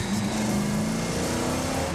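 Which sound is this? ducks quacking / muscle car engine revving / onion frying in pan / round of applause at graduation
muscle car engine revving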